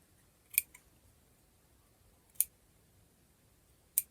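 Three crisp scissor snips cutting paper for a handmade 3D butterfly journal cover topper, each a short sharp click spaced well apart in a near-silent room, close and fairly faint.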